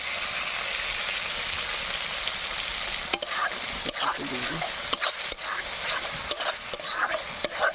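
Chili powder paste with water and ginger paste is stirred in a frying pan, giving a steady wet sizzle with scraping strokes of a spatula. A person talks intermittently over the cooking.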